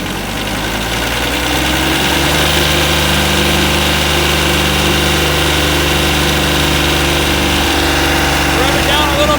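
FINN B70 straw blower engine running steadily and loud throughout, a constant mechanical drone with a slight rise in pitch toward the end, no clear start-up, no speech over it.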